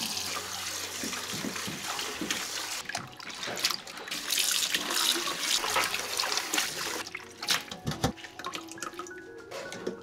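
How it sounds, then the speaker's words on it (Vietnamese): Cold running water pours and splashes over pomelo peel being rinsed in a sink, a close, steady gush with irregular drips and handling noises, and no one speaking. "Sau đó mình vớt ra đem rửa lại qua nước lạnh."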